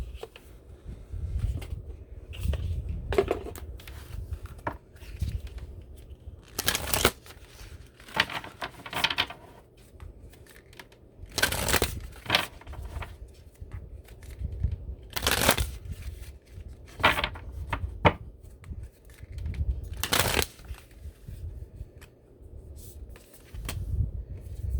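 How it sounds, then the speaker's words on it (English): Moonology oracle cards shuffled by hand in a quiet room, with soft papery riffles and bursts of card flicks repeating every few seconds, close to the microphone, with no talking. "I'm going to get some Moonology card and see if I can pull a card for advice."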